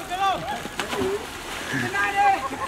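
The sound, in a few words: water splashing as a zip-line rider is dunked in a lake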